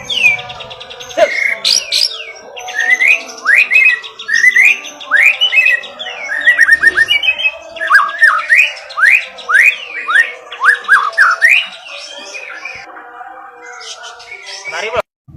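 A white-rumped shama (murai batu) sings a long, loud run of varied whistled phrases, rapid chirps and trills, close by and continuous with brief pauses.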